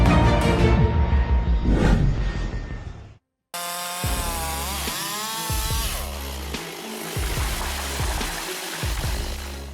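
A chainsaw roars loudly, cutting into a hardwood tree about 4 feet thick, then after a brief silence revs again and bites through the trunk, with the engine pitch rising and falling under load.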